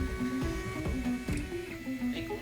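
A 3D printer running a job on a plastic door handle in a living room, its stepper motors whining in steady, shifting tones with rhythmic clicks of the moving head, close and fairly quiet.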